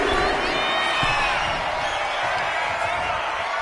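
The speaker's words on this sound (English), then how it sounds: "And Buck is firing up the crowd here." Arena crowd cheering and roaring in WWE 2K25 wrestling game, a steady loud wash of noise throughout with commentary voices underneath.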